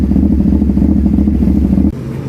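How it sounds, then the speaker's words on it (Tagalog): A CF Moto 450SR motorcycle with a changed muffler idling after a cold start, a loud, steady, throbbing engine rumble that drops slightly near the end. "At ngayon, i-cold start na natin itong motor."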